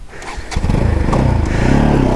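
A motorcycle engine putters, then revs up into a steady loud drone as the bike sets off on a muddy, slippery offroad track during heavy rain, recorded close up.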